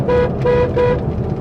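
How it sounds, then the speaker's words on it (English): A car horn honks three short times in a row, loud and close, over steady road and engine noise from inside the moving vehicle near a school bus stop. "honk the horn"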